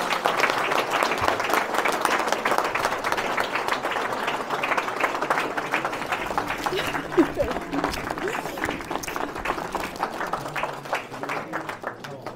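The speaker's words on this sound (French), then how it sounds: "Vous pouvez l'applaudir." A crowd at a New Year's greetings ceremony in Léran, France, claps steadily for several seconds, dense and sustained applause filling the room at an even level.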